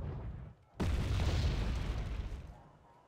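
A Milan 2 anti-tank squad and tanks fire in Wargame: Red Dragon, a sudden loud boom cutting in after a quieter rumble, then a broad roaring blast that slowly fades over a couple of seconds.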